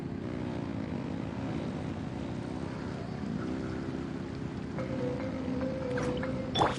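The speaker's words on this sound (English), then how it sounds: "Rev the engines!" Aircraft engines revving in a video game, a steady propeller-like droning hum with rising harmonic tones, moderately loud and continuous, swelling near the end.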